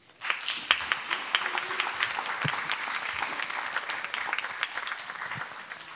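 Sustained audience applause fills a conference hall at an international conflict-resolution conference in Seoul, a dense patter of many hands clapping steadily for about six seconds at moderate volume.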